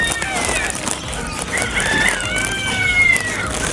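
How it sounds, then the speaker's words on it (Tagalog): Chickens cluck and crow amid a dense, noisy pet market din in Kuwait, with people talking in the background. "Manok."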